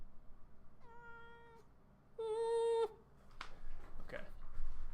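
A house cat meows twice, a shorter call then a louder drawn-out one, fairly close, followed by faint movement and room noise.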